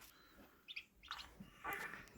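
Three little ducklings, found alone without their mother on a farm, give a few short, faint high peeps spaced across a quiet background.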